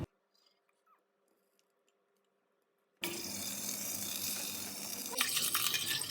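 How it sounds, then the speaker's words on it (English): Beef liver drops into hot oil in a pot and starts a sudden loud sizzle after near silence, then keeps frying steadily with a few stirring clatters. "I've added some oil in my pot. And now we're adding the liver."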